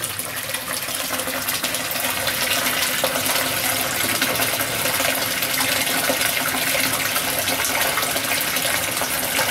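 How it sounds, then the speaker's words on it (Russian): A continuous loud rush of groundwater flowing and splashing from drainage holes in concrete blocks, steady throughout, echoing in an underground drainage tunnel system in Moscow. "из этих дренажных отверстий в бетонных блоках течет грунтовая вода"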